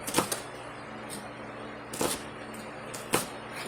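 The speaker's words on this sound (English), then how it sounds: "Alright, get the shallot cut up." A knife cuts up half a shallot on a cutting board: three quiet, widely spaced taps against a faint steady background hum.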